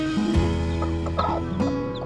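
A hen clucks repeatedly at close range, short throaty calls in an irregular rhythm with some other bird noises mixed in.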